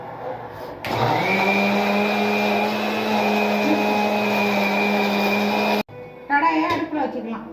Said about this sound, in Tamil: பூண்டு, தக்காளி, வெங்காயம், மிளகு, சீரகம், காஞ்ச மிளகாய் போட்டு மிக்ஸில் அரைக்கணும்